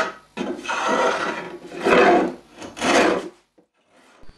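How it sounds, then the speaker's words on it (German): A drawknife strips the last bark from the back of a hazelnut flatbow stave in three long, rasping strokes, fairly close and loud, with short pauses between them and no talking. "Im nächsten Schritt wende ich mich dem Bogenrücken zu und nehme hier erstmal die letzten Rindenreste"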